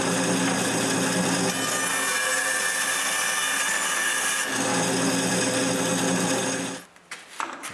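A power saw cuts the corners off wooden finial blanks ahead of lathe turning, running as one loud, steady whine for about seven seconds before it cuts out abruptly, leaving a few quiet clicks and handling noises.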